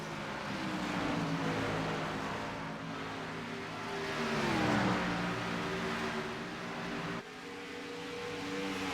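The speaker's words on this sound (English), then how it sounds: "See where the cars fly past? Yeah, that's such a great sound." Race cars in a stock-car racing video game at Dover roar past the start-finish line, a steady dense engine drone swelling and dipping as the pack flies by, loud and continuous with no talking.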